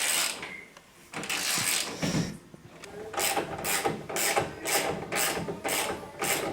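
Ratchet wrench tightening radius rod bolts on an ATV, rapid clicking bursts in quick repeated strokes, close and fairly loud, with a brief pause before a steady run of rhythmic cranking.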